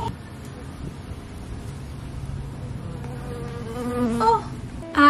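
A bee buzzes close by outdoors on a beach vacation, a steady insect drone that swells near the end before a louder burst; no talking.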